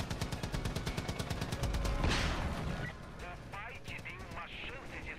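Rapid machine-gun fire from an aerial battle in the video game Far Cry 5, a steady rattling stream of shots that gives way to engine roar and action noise, with someone talking over it.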